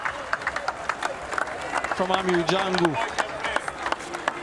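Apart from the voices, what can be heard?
cricket spectators and teammates applauding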